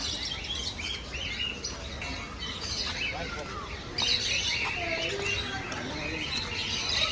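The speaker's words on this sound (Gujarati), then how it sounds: "તો આ પોપટ" A parrot at a zoo calls with scattered chirps and squawks over steady background noise, moderately distant.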